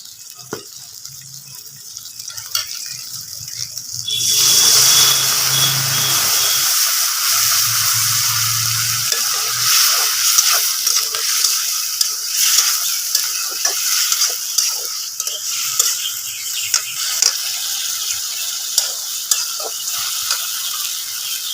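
Premade sauce poured into a pan of frying chilli chicken, bursting into loud steady sizzling and hiss after a quiet start, with scraping stirring sounds running through the rest.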